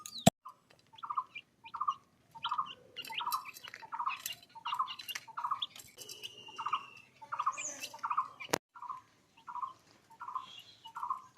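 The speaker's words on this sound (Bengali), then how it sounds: "ঘুঘু আছে এখানে" Doves gathered close by, waiting for wheat to be scattered as feed, give a steady run of short repeated calls, about a dozen evenly spaced notes, fairly near and clear, with a few sharper chirps mixed in and no talk.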